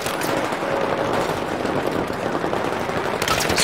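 Gunfire in the video game Battlefield 3, dense continuous rattling bursts that sound loud and close, with sharper cracks near the end.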